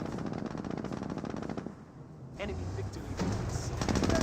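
MG42 machine gun fire from the World War II strategy game Company of Heroes, rapid repeated bursts rattling steadily in the first stretch, then further battle noise under a commentator's talk.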